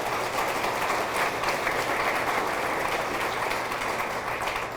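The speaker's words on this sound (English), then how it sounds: "That deserves a round of applause." Sustained applause from a crowd at a high school athletic hall of fame ceremony, steady and even clapping that fills the space without pause for several seconds.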